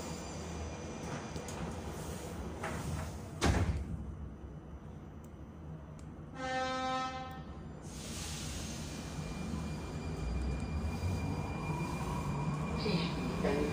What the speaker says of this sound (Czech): dveře se zavírají.